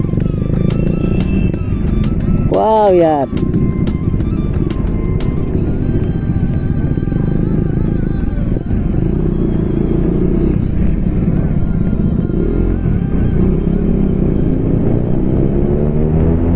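Several motorcycles ride together in a group on a Sunday ride in Meghalaya, a steady loud engine rumble filling the whole stretch with wind noise, while a rider speaks briefly over it.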